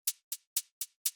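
Short, tight hi-hat hits in an electronic music production, five crisp bright ticks in a steady even pattern, dry and close with no other sound.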